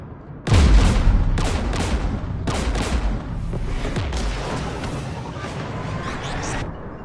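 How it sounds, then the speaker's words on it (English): Combat gunfire in the video game Mass Effect 3, a loud, dense, continuous barrage of shots and blasts rumbling on for several seconds without speech. "We're taking fire."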